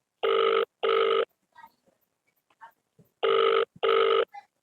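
A telephone rings unanswered in two pairs of loud electronic bursts, with a quiet pause and faint background noises between the pairs.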